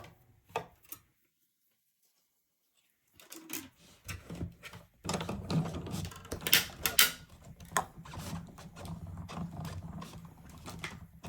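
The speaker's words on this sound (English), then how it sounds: "run them through the embossing machine" Card paper is cranked through an embossing machine, giving a run of ratcheting, grinding mechanical clicks that grow denser and steadier after a short silent pause, preceded by a few isolated taps.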